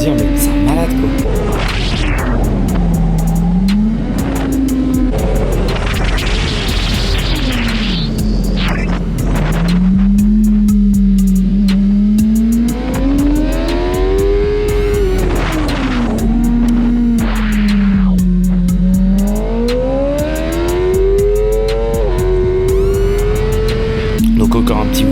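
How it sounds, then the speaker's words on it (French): A motorcycle on a track pulls a wheelie and brakes hard into a skid, its engine droning and rising and falling in pitch throughout, loud and steady under a talking voice. "Donc encore un petit wheelie tranquillement et un freinage. Tout va bien, ça dérape."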